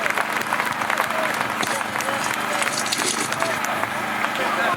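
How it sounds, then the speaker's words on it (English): Audience at a motocross regional series finals breaks into steady, sustained applause, a dense crackle of many hands clapping, fairly loud and continuous, with voices mixed in. "So give him a round of applause."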